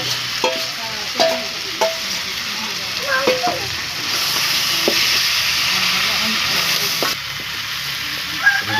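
Sizzling pan where fried fish heads are stirred in with potatoes: a steady frying hiss throughout, with intermittent scrapes and knocks of the spatula against the pan, close and fairly loud.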